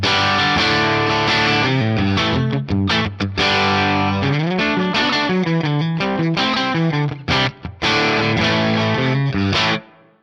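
An uncabbed amp-sim guitar tone with the Strymon cab simulation bypassed: a harsh, buzzy distorted riff of fast chord stabs and sustained notes with brief gaps, ending abruptly.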